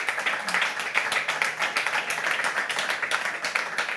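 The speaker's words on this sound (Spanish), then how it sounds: "otro aplauso, Fran, la verdad" An audience at a tribute event for Fran, Deportivo de La Coruña legend, gives a round of applause, individual claps distinct in a lively, fairly close, rhythmic patter that holds steady for several seconds.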